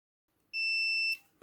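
A multimeter's buzzer gives a single steady electronic beep, high and pure, for about half a second then cuts off, close and clear against a quiet background, while testing a Mercedes KE-Jetronic throttle body switch.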